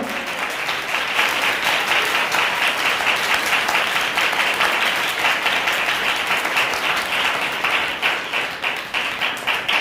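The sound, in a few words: congregation applause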